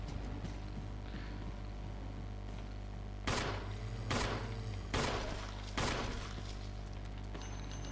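Four loud gunshots fired by Jill in the video game Resident Evil HD, spaced about half a second apart, booming over a steady low game ambience.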